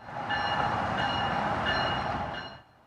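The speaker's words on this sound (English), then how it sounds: "We start our day with a meet between two midday New Jersey Transit locals." Two midday New Jersey Transit local trains meet on the Northeast Corridor, heard from a station platform as a steady rolling rumble with sustained tonal whine and squeal, fading out near the end.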